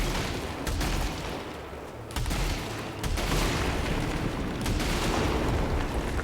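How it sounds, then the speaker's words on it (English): A shotgun-like weapon in the video game Returnal fires loud, dense volleys of booming blasts, close up and nearly continuous, with a brief break around the middle. "this one rewards me with a shotgun-like weapon"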